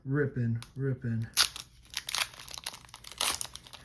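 A voice speaks briefly, then a Pokémon Perfect Order booster pack's foil wrapper is ripped open close up with crisp crinkling and tearing bursts.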